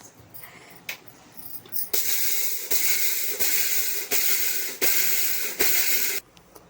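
A mixer grinder grinding roasted horse gram whirs in loud, even bursts, started and stopped about six times in a row, close up and with no talk.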